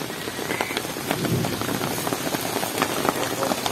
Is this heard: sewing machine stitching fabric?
no